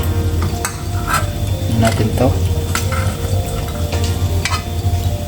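Beef fat sizzling and frying in a pot as it renders into homemade cooking oil, a steady crackling hiss broken by sharp pops and stirring scrapes, with a person briefly talking nearby.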